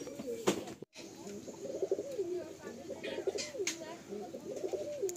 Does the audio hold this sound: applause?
no